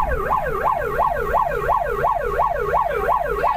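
An ambulance siren wails in fast, regular up-and-down sweeps, loud and continuous throughout, carrying a critically ill father to the hospital.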